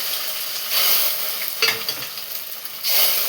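A tempering sizzles in hot oil with a soft continuous hiss that swells in a few bursts and fades between them, close by, with no voices.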